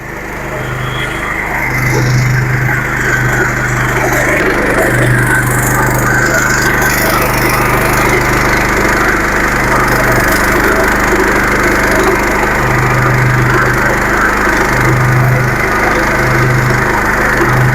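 A stubble mower's engine drones loud and steady while it shreds tall grass in a field, a constant mechanical roar with a pulsing low throb and a grinding, crackling texture over the top, and no voices.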